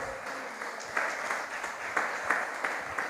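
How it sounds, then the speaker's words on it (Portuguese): A church congregation applauds during a pastor's sermon, a moderate wash of clapping with periodic louder bursts throughout. "Pode aplaudir o Senhor"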